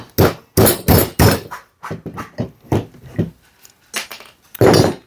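Loud, uneven metallic knocks and thuds of a hammer pulling nails, in short bursts with brief gaps between strikes.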